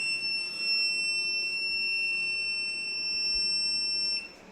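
A steady, high-pitched electronic warning beep from an industrial 4U server's power supply sounds continuously over a low hum, holding unchanged for several seconds before stopping.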